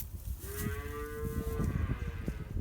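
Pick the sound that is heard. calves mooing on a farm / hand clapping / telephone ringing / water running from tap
calves mooing on a farm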